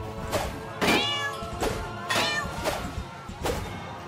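Cats meowing in South Park The Stick of Truth, five or so loud, close meows at a steady rhythm with a little background noise between them.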